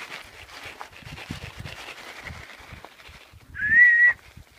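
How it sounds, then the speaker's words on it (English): A person gives one short, rising whistle to call ducks and chickens in a muddy farm pen, loud and close, after quiet rustling and footsteps. "And a whistle."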